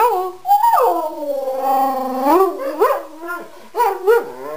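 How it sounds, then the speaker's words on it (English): A dog howls in long, wavering, rising and falling tones, close and loud, broken into several drawn-out cries with short whimpering breaks between them. "Howl."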